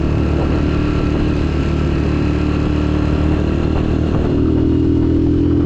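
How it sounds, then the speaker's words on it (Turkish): A motorcycle rides along a village road near Ilyasfakı village in Ayvacık, Çanakkale, its engine a loud, close, steady drone that holds for the whole stretch with no talking. "Maşallah be motor uçuyor uçuyor yemin ediyorum uçuyor."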